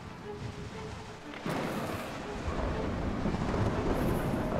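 Thunderstorm in the survival game Smalland: Survive the Wilds, a deep rumbling roll of thunder with a sudden loud crack partway through, followed by steady rain-like noise building and continuing.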